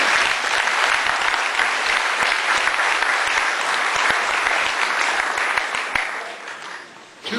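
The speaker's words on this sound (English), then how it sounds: "Let's give them all a round of applause." Dense, loud applause from a class reunion audience, many hands clapping steadily with a few sharp distinct claps up close, fading out near the end.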